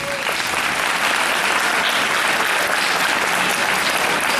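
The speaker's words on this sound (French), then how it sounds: "j'aimerais, au nom des 3 associations, que vous puissiez leur réserver nos plus chaleureux applaudissements" A hall audience at an evening event gives warm applause, a loud, full and continuous roar of clapping that holds steady throughout.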